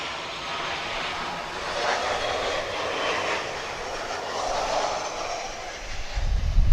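A KLM Boeing 737 arriving from Amsterdam lands at Lisbon Airport, its engines a broad, distant roar that swells and fades, with a low rumble building at the end.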